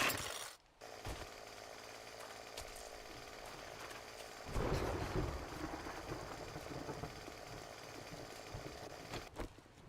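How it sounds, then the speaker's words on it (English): A chainsaw in the survival video game 7 Days to Die buzzes continuously, breaking off briefly near the start and then cutting in louder and rougher halfway through, running steadily to the end. "That sounds like time to use the chainsaw!"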